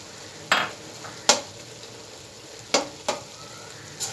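Chicken mince frying with fresh coriander and garlic-ginger paste for shami kabab, a soft steady sizzle broken by a few sharp metallic scrapes and clinks of a spoon against the pan.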